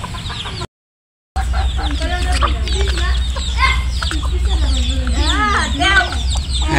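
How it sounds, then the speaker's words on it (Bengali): A brood of young chicks and hens fills the space with dense, continuous peeping and clucking, close and fairly loud, their overlapping calls rising and falling after a brief cut at the start. "এই মুরগি বাচ্চা কয়টা আছে"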